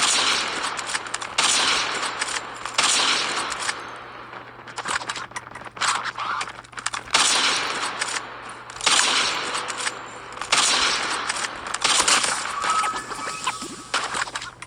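Rapid gunfire from Call of Duty Mobile with aim assist active, dense bursts of automatic shots repeating across the whole stretch, loud and close, with no talk over it.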